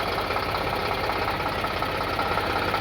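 A 50 HP Eicher 548 tractor idles with a steady, even diesel rumble and knock, close and continuous, with no voices.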